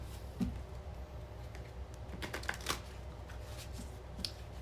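Tarot cards are shuffled and drawn during a reading, a quiet flurry of soft riffling with a few crisp snaps and ticks of cards being handled close by, faint with no talk.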